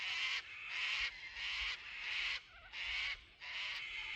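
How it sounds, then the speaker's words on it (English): Cockatoos calling on a foggy hilltop near Khancoban, a run of harsh, drawn-out screeches repeated in steady bursts with short gaps, moderately distant and carrying over quiet surroundings. "beautiful birds, beautiful cockatoos"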